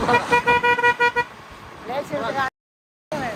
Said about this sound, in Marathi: नवीन ड्रायव्हर नुसतं हॉर्न दाबतात.